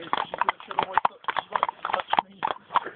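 Horse hooves clip-clop in a horse riding video game, a steady run of quick hoofbeats at moderate volume, mixed under talking.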